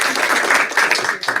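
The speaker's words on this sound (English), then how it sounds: "Let's give Addie a round of" Applause at a school board meeting for a student, steady clapping from an audience that is fairly close and continuous through the short stretch.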